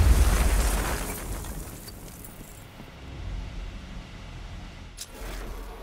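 An explosive charge blows apart a wall in the video game Batman Arkham Knight: a loud opening boom and blast, then a long fading rumble of debris, with a second sharp crack near the end.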